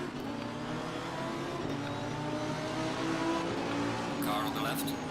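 Lamborghini Huracan GT3 Evo race car engines in the video game Assetto Corsa Competizione at Zandvoort drone and whine steadily at high revs, with pitch shifts as cars pass, under a speaking voice.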